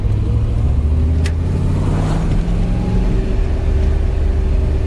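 A V8 engine in a light MGB GT V8 coupe drones steadily while driving on an open road, a loud continuous rumble with a brief rise in revs midway.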